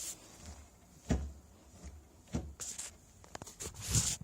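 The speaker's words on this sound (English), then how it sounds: "as I try and open the door, the whole thing" A sticky stove door, hot after hours of use, is pulled hard: a few sharp knocks and creaking metallic clunks spaced apart over quiet background, ending in a louder scrape.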